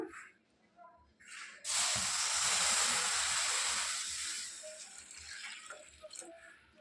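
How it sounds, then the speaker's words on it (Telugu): Half a litre of milk poured into a pan of vermicelli roasted brown, a loud steady hiss and sizzle that starts suddenly, holds for a few seconds, then fades into soft bubbling, close up. "ఇప్పుడు ఇందులో మనం పాలు యాడ్ చేసుకోవాలి"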